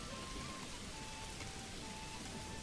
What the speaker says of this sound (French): Vous avez vu comment la pluie s'écoule sur les toitures?